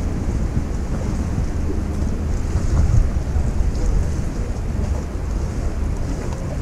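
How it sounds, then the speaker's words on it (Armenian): Waves on Lake Sevan washing against the shore, a steady loud rush of water mixed with heavy wind buffeting the microphone, with no voices. "ջրի ձենը ինչքան գեղեցիկ ա,"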